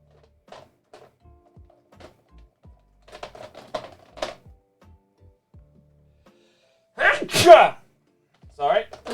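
Quiet taps and small sounds lead up to a single sharp, loud sneeze from a person nearby, followed by a short burst of speech.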